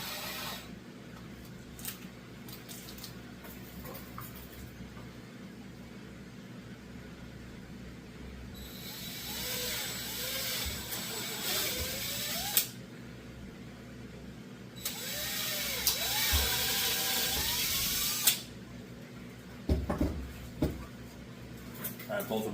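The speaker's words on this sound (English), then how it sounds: "I'm going to go ahead and drill out my hole to the size it needs to be" A drill bores a hole through a Kydex sheet in two bursts of grinding, rasping noise, a few seconds each. Quieter workshop background surrounds them.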